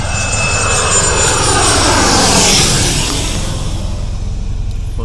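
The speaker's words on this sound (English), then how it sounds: "watch the airplanes land, take off and stuff" An airplane coming in to land at Boeing Field, its engine roar loud and close, swelling to a peak mid-pass with a sweeping whine, then easing as it moves away, with no talk.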